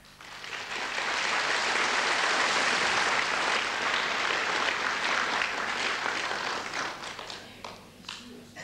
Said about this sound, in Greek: Χειροκροτήσατε!